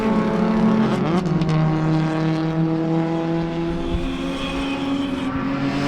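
A race car screams past during a club racing enduro at Sebring, its engine note dropping in pitch as it goes by, then a steady engine drone lingers in the background.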